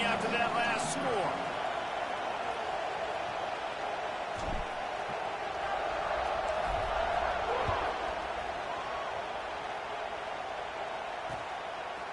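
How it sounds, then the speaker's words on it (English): Stadium crowd in a PS5 football video game, a steady dense roar filling the scene after a score, with a few sharp thuds and bursts over the continuous buzz. "this crowd is buzzing after that last score"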